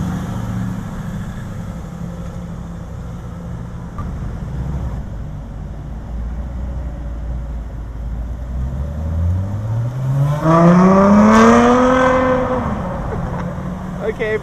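Ferrari F12 TDF pulling away at night in Kuala Lumpur, its engine note climbing in a loud rising sweep of harmonics that peaks and then fades as the car leaves, with steady ambient noise underneath.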